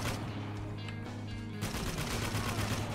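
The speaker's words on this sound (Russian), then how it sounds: "Пожалуй, я сяду за турель." Mounted turret machine gun in Spec Ops: The Line, firing in a dense continuous stream at moderate level, the fire thickening after a short stretch of heavy, steady rumbling shots.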